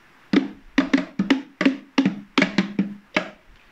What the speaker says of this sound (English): But the ukulele is made of wood. So, there are other ways that it can sound,